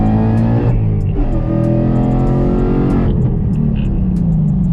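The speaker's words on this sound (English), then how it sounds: "You put your foot into it, the car just goes." A 2019 Ford Mustang Bullitt with a VMP Odin supercharger accelerates hard. Its loud, close engine note climbs steadily in pitch through the gears.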